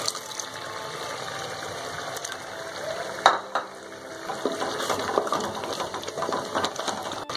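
Masala frying in a pan hisses steadily with a broadband sizzle, with a sharp splashing burst midway as water is added, and the sizzling grows louder and busier afterwards.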